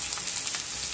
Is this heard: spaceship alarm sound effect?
no